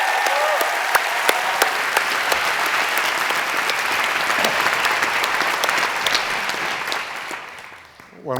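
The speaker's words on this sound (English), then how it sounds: "One more round of applause." An audience at the Skoll Awards ceremony applauds, a dense steady roar of clapping with sharp individual claps popping out, sustained for several seconds before thinning and fading at the end.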